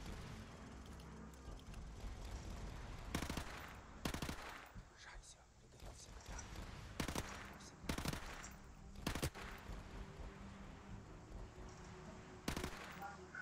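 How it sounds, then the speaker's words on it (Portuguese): Scorpion submachine gun bursts in Call of Duty Modern Warfare Remastered, several sharp loud volleys spaced a second or two apart over a steady game-ambience bed, with a voice talking faintly in the background. "Aqui a gente vai matar mais alguns inimigos com a Scorpion"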